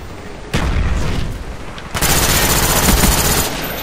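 A frag grenade blast and sustained gunfire in a Black Ops shooter, with two sudden loud onsets opening into a dense, continuous roar of shots and booms that stays near and heavy to the end.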